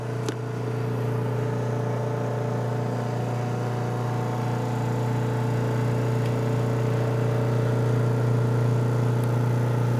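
A chamber vacuum sealer's pump runs steadily for about forty seconds, a loud, constant motor hum with strong low harmonics and a faint whir above, pulling down a cold liquid until it boils; no talking over it.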